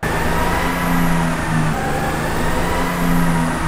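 A diesel truck engine runs at steady high revs on a chassis dyno, burning Shell V-Power diesel, producing a loud, continuous drone with a sustained low hum that holds for several seconds without letting up.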